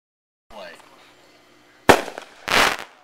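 Two loud firecracker or firework bangs go off at a backyard-style gathering, the first sharp and the second a longer crackling burst, after a brief voice-like sound at the start.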